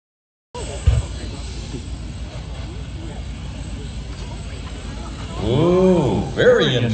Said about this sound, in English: That sounds like a jet engine